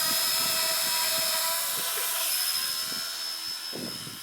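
A small EC-145 Airbus scale RC helicopter whines with a high, steady buzz and rapid rotor chop, close by and fairly loud, fading slightly toward the end.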